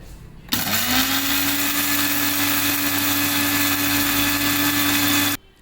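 A kitchen mixer grinder whirs loudly and steadily for about five seconds while powdering crushed eggshells into fertilizer, starting abruptly and cutting off sharply at the end.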